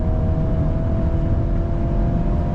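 A 2025 VW Golf R 8.5 hatch driving on a track, a steady loud engine drone with road and wind roar heard from inside the car.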